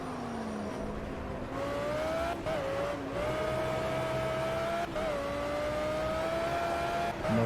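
Simulated Audi R8 LMS race car engine in Project Cars, revving steadily with rising pitch through several gear shifts, loud and continuous with brief dips between gears.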